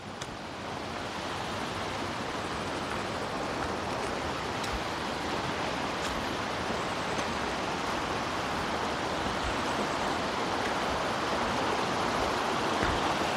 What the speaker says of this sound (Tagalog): So dalawang ilog dito sa isang lugar.